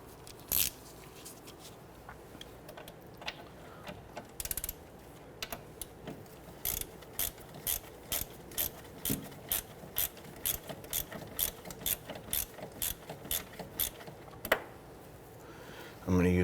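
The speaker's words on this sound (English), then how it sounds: "use my deep socket on that back bolt" Ratchet with a deep socket turning a bolt on a Honda Ridgeline sway bar bushing, with a quiet, regular series of clicks close by, faint and steady.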